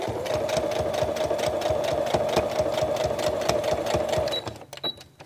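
A sewing machine stitches a zipper in a rapid, steady mechanical chatter of needle strokes, close and continuous for several seconds before stopping abruptly near the end.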